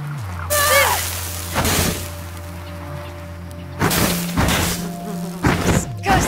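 Insects buzzing in The Chant video game, a few brief whining flybys over a low hum, punctuated by soft thuds and whooshes; fairly close, no talk.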